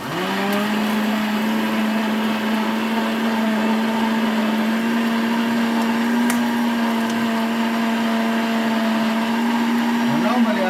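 An electric blender grinding ingredients for a garden egg and spinach stew runs continuously and loudly up close, a steady high motor whine that holds an even pitch throughout, with faint speech beneath it.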